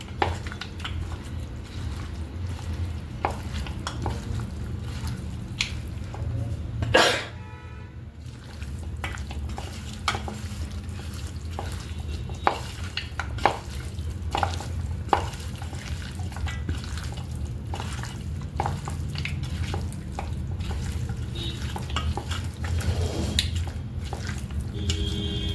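Chicken marinade being mixed for air fryer roast chicken, with soft wet squelching, stirring and dripping sounds that continue steadily at close range, plus a few sharper clinks along the way.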